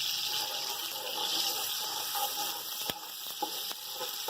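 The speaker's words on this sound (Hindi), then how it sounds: "ये हमारे पास 3 चम्मच अदरक लहसुन है, हम ये डाल देंगे और अदरक लहसुन को ब्राउन करेंगे।" Ginger garlic paste sizzles in hot oil for a biryani, a dense, steady hiss up close with a few sharp spits and pops.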